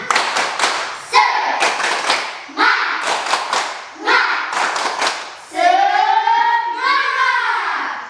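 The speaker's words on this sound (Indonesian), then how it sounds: "Ya, tepuk semangat." A class of schoolchildren doing a rhythmic spirit clap in a classroom, bursts of clapping in patterned sets alongside chanted voices, ending in a drawn-out shouted cheer.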